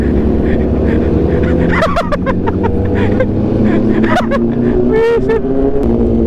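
Aprilia RSV4 1100 Factory (2019) fitted with an SC Project exhaust, riding through city traffic with a steady loud engine drone, several sharper higher-pitched bursts and passing vehicles mixed in.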